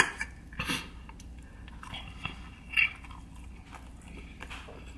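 Eating a breakfast burrito with jalapeño: close, moist biting and chewing with a few sharper crunchy bites, quiet and alone with no talking.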